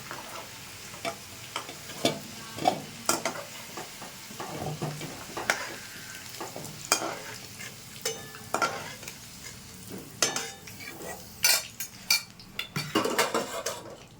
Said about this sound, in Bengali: এই তেলেই আমি আলুটা ভেজে নেব। আলুটা ভাজা হয়ে গেছে, তুলে দিচ্ছি।